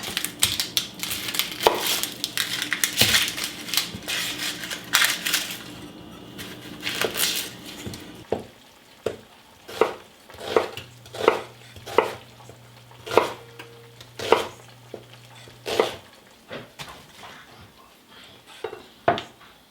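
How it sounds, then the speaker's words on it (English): Knife chopping onions on a board for chicken liver pâté, with butter melting in a cast iron pan; clattering of utensils at first, then a run of distinct, evenly spaced chops close by. "On top of the butter, I'm going to chop up 4 onions and add them."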